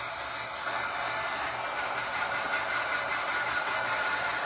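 A hair dryer blows steadily and loudly on a painted ceramic frame, a constant close whooshing drone with a low motor hum throughout and no talking.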